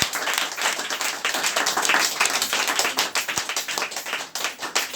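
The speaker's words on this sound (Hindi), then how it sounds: "जोरदार ताली से धन्यवाद" A gathering at a Christian prayer meeting breaks into vigorous clapping after a prayer, many hands close by with sharp individual claps standing out and some fluctuation in intensity.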